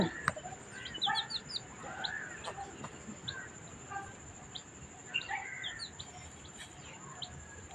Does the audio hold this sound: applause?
no